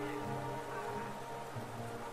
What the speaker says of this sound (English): What am I doing in the miserable downpour?